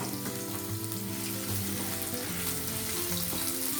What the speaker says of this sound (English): So now I'll add a sliced white onion slice first. Few seconds I'll stir it.